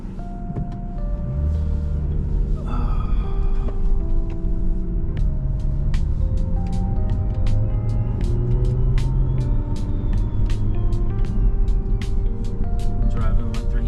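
A turbocharged BMW 340i with the B58 engine cruises along, its engine a low steady drone from inside the cabin. Regular clicks tick across the drive, and a brief squeal comes early on.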